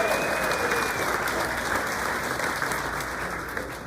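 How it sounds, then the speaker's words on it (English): A large crowd applauds at a graduation ceremony, a broad, continuous wash of clapping heard at some distance with a faint murmur of voices underneath. "please give a warm congratulations applause to the Southern California Gas"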